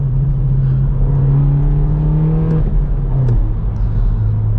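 A BMW 1 Series with its rear box and resonator removed revs through a straight-pipe exhaust, a loud, close engine drone that climbs and holds, then drops slightly near the end.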